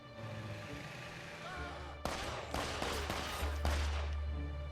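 Gunfire from a zombie-fighting video game: after a steady background hum, a rapid run of sharp, loud shots and impacts bursts out, repeating in uneven clusters over low rumbling game sound.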